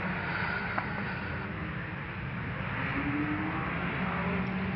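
A rally car drives stage 7 of the Jack Frost Rally, a 5.8-mile stage, its engine roaring steadily and continuously at close range with gravelly road noise underneath, no voices.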